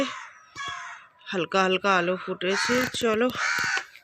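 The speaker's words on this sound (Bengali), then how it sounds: "কাক ডাকছে" Crows caw repeatedly at winter dawn on a street still lit by lamps, loud and close, with a person speaking over and between the calls.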